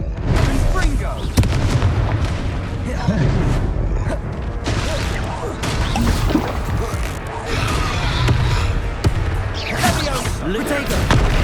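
Confringo blasting spells exploding in Hogwarts Legacy, a series of booming impacts and crackling bursts amid a busy combat mix, with a voice speaking over the fight.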